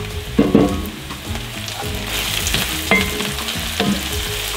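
Garlic and ginger frying with onions in a pan, a steady close sizzle with a few sharp spatula scrapes and clinks through the mix, for Ethiopian dried-beef firfir.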